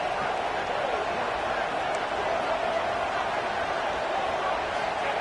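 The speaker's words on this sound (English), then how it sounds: "this crowd is fired up. Listen to this noise here." A fired-up crowd roars in a college football stadium, a dense, steady wash of cheering and noise at a home game against UCF, filling the whole stretch without breaks.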